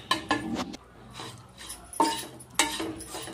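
A spoon scrapes and knocks against a pan while a date and poha ladoo mixture is stirred in ghee, giving several close, uneven strokes with brief pauses.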